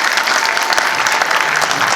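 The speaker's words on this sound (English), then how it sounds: "A round of applause for Mike Galland." A movie premiere audience claps steadily in sustained applause, dense and fairly loud throughout, with no voices standing out.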